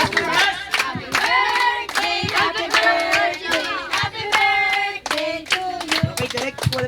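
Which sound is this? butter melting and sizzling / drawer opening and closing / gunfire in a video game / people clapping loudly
people clapping loudly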